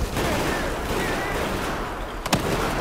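Gunfire in the video game Battlefield 4: a continuous barrage of shots rolls on for several seconds, then ends in a sharp, louder burst near the close. A voice can be heard faintly under the firing.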